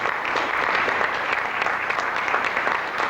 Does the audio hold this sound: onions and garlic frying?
no